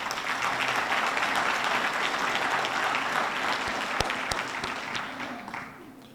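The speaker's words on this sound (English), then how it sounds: "Please give them one more round of applause." An audience at a police department awards ceremony gives a round of applause, dense steady clapping with a few sharp close claps, fading out near the end.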